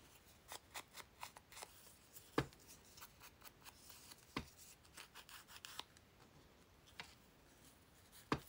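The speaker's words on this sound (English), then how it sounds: "so I'm not cutting it." Brown paper is torn by hand while making journal pockets, giving a steady series of dry rips and crackly snaps, close and fairly quiet, with no talking.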